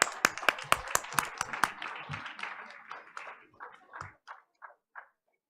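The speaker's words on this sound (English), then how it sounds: "Let's give them one more round of applause." Audience applause at a board of education meeting: a burst of sharp, close claps that thins into scattered, slowing claps and fades out within about five seconds.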